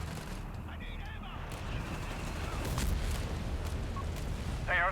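An incendiary artillery barrage in the Company of Heroes 3 video game, a spread of rumbling booms and crackling impacts building through the middle, with a short whistling shell sound near the end.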